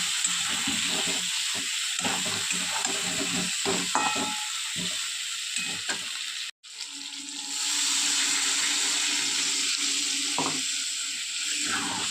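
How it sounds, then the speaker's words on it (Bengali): Water poured into a pan of sizzling new potato curry (aloo dum) with peas and green chillies, a steady loud hiss and bubbling that briefly cuts out and then returns strongly, with no voices. "এবার পরিমাণ মতো জল দিয়ে দেখুন"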